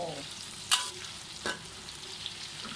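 June beetles fry in hot oil before being stir-fried with holy basil, a soft continuous sizzle broken by two sharp stirring scrapes.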